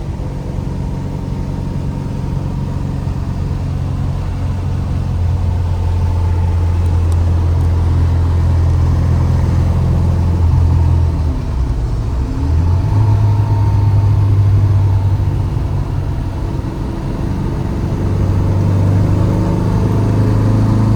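A 1967 MGB GT engine pulls steadily at about 50 mph and 2,600 rpm on a mountain drive, a loud continuous drone with low harmonics that shift and rise as the car climbs, with no talking over it.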